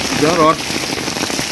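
Heavy rain pours down as a steady, loud hiss that fills the whole clip, with a brief voice heard over it near the start.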